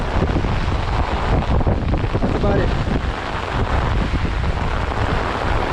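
Strong wind and heavy rain roar continuously during a thunderstorm on a New York City skyline walk, loud and close against the microphone, with a brief spoken comment partway through.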